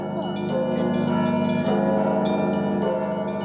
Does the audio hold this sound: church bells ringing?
yes